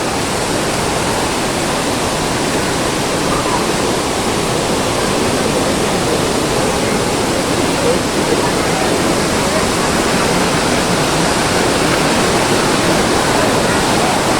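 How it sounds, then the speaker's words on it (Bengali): Water cascading step by step down a waterfall at Rock Garden, Darjeeling, a loud, constant, dense roar that fills the whole clip without pause. "উপরে সেই ঝর্ণা, সেই ঝর্ণাটাই নিচে নেমে আসছে।"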